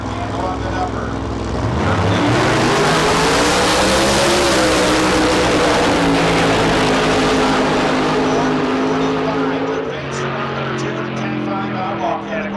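A Toyota street car in the outlaw category at a drag strip launches and roars down the track, a loud sustained engine howl with a rising then steady tone, and a commentator talks over it throughout.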